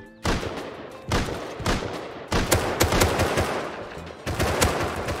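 Automatic gunfire from the survival video game Rust comes in several loud, close bursts of rapid shots separated by short pauses, with no talking.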